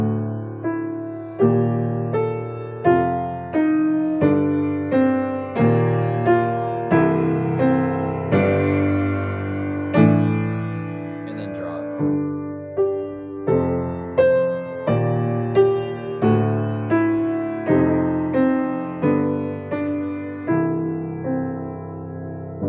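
Solo piano plays a passage from Rautavaara's Fire Sermon Sonata, with a steady series of struck chords and notes that ring and decay one after another, close and clear with no talking.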